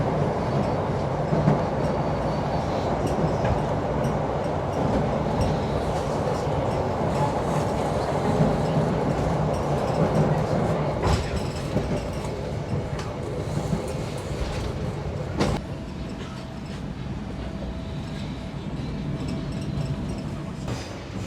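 An Indonesian executive-class Gajah passenger train rides along the rails, a steady loud rumble with rolling clatter heard from inside the carriage, a brief sharp knock partway through.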